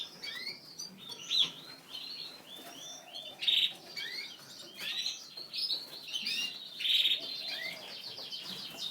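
Frilled canaries in a breeder's room trill and chirp continuously, with bright, rapid warbling phrases and sharp tweets close by and no talking.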